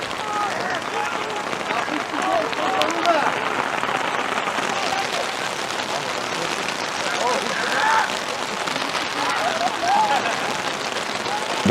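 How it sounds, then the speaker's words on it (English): Heavy rain pours onto an American football field during a game in Bucharest, a dense steady hiss across the whole span, with a commentator talking over it. "right now it's pouring right here in Bucharest"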